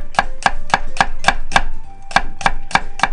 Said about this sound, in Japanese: 玉ねぎはもう薄切り。